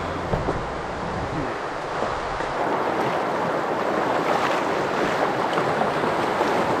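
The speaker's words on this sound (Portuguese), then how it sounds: "Isso é o que eu chamo de uma cachoeira do caralho." A large waterfall in Urubici, Brazil, a steady broadband roaring rush heard from a distance, constant and loud with wind buffeting the microphone.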